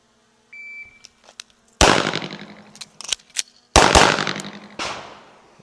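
Pistol gunshots at draw and reload practice: two loud, sharp reports ring out, each followed by a few quicker shots and clatter, with a faint electronic beep and small handling clicks before the first shot.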